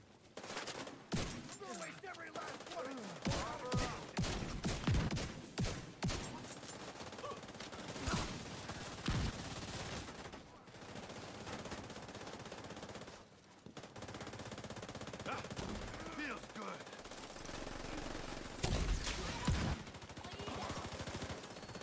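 Video game gunfire with bursts of automatic fire and single shots that come in irregular clusters, loud and sharp, while players talk over the action.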